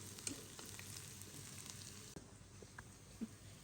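Beef paya nihari ingredients frying and browning in a pan, a steady soft sizzle running throughout with a few faint stirring clicks, fairly quiet and with no talk.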